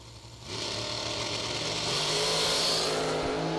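Drag racing cars, including the Mosier Engineering 2012 American Dragster, roar off the line on the strip, engines revving hard and loud with rising pitch as they launch.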